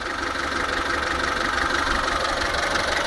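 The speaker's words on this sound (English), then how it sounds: "So now the car runs fine on idle." A hot Kia Pride car engine idling steadily up close, an even continuous mechanical hum with a slight knocking texture and no talk.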